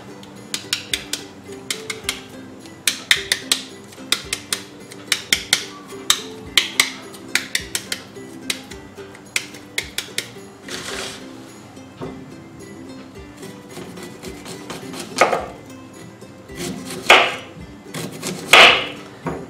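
A knife chops onion finely on a cutting board in quick bursts of sharp taps, then pauses before louder, scattered chops near the end. It is close and clear, with no speech.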